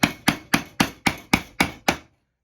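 Eight sharp, evenly spaced strikes of a chisel driven into wood, each a crisp close knock with a short decay, then silence.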